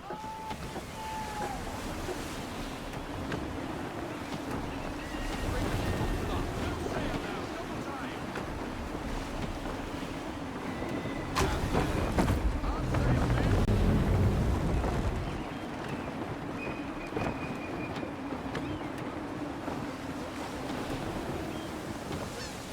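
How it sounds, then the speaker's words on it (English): Gusty wind roars steadily around a sailing ship at sea in Assassin's Creed III, a dense wash of air and water that swells louder for a few seconds midway before easing back. "Wind looks to be shifting. Stay alert, Connor. Gusty winds can be difficult to manage."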